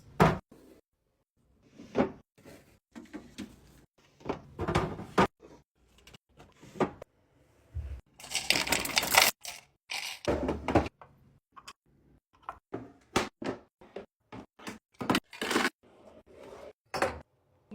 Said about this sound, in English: Last thing I need to do is restock my cabinets and drawers